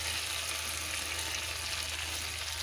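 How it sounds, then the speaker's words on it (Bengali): Marinated chicken frying in hot oil and spices, a steady soft sizzle with a continuous crackling hiss, close and unbroken. "এখন আমি ম্যারিনেট করা চিকেনটাকে দিয়ে দিচ্ছি।"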